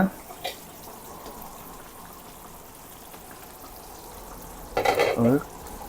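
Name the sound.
dal dumpling curry boiling in a pan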